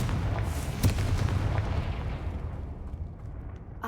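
A Confringo blasting spell explodes in Hogwarts Legacy, a single booming burst with a sharp crack, followed by a rumbling tail that slowly dies away, with no talking.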